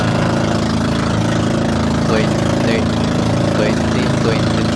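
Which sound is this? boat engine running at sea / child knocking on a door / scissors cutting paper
boat engine running at sea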